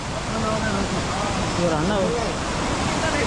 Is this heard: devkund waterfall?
yes